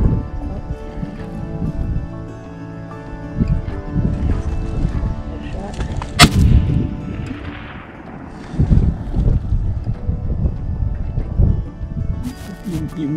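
A single sharp rifle shot cracks out midway through a deer hunt on public land, set against a steady background rumble, with people talking quietly before and after.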